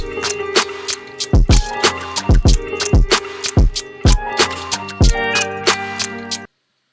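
Percussion loop laid into an indie track's timeline, a busy, loud pattern of sharp hits and shakers repeating in steady rhythm before cutting to silence at the end.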